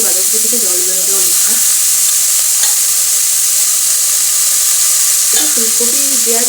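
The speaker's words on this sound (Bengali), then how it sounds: "বাঁধাকপিগুলো ভালো করে ভাজতে হবে" Cabbage sizzles steadily as it fries in hot oil in a pan, with continuous loud hiss and occasional scraping stir strokes throughout, and brief talk at the start and near the end.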